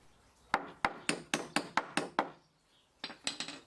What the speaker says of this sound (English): It's a good idea to tap them into the hole with a hammer so the square part's seated.